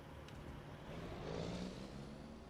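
Heavy truck engine in Farming Simulator 25 running steadily with a low droning hum, rising slightly in loudness midway, heard close with no talk.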